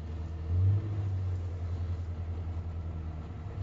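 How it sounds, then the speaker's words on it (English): A Morris Minor car engine rumbles low and steady up close, swelling briefly in a short rev near the start before settling into an even drone as the car pulls away, with no voices. "Rev the engine. Clutch back until it just begins to fade. Handbrake off."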